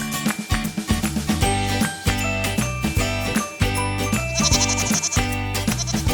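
Goat bleats sound over a bouncy tune with tinkling bells, repeating in short rhythmic bursts throughout.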